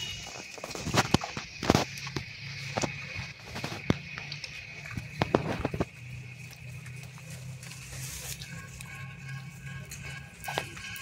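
Footsteps land on a slippery, moss-covered outdoor floor after rain, a series of sharp, irregular close steps with scuffs and slaps that thin out, then give way to quieter ambient noise.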